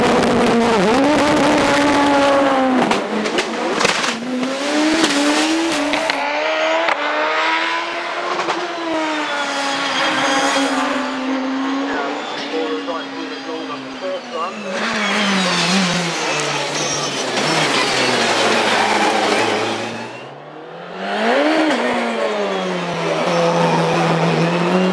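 A 2.2-litre twin-turbo Cosworth BDT saloon car with four-wheel drive powers up a hillclimb course, its loud, high-revving engine climbing and dropping through gear changes, close by at first, with a sharp lift off around the twentieth second, and no talk.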